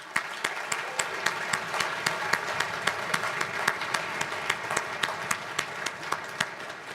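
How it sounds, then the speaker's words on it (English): A high school winter concert audience gives steady, full applause in a hall, with brisk individual claps standing out over the continuous wash of clapping. "please join me in a round of applause"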